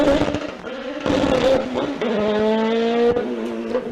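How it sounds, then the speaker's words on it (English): A Kawasaki-powered Van Diemen open-wheel race car at a sprint meeting, its high-revving engine whining loudly through rising and falling gear changes as it passes nearby. "Next up of the really quick open wheelers, Brett Bull"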